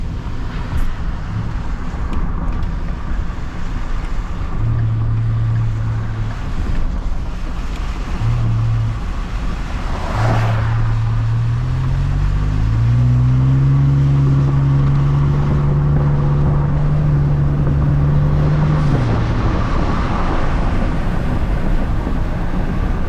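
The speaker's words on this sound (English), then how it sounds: "we'll slow down here, crack the windows and see if we can get some of that blow off valve and turbo noise" Ford F150 with intake, exhaust and tune mods slowing down with windows cracked on a cold day: steady road and wind rush with rising and falling turbo whistle tones and a drawn-out whine near the end, close and continuous.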